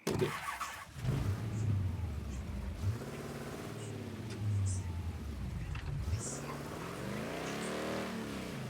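A truck engine in Mafia 3 revs and surges through several rising and falling pulls, fairly close and steady, while someone talks over it.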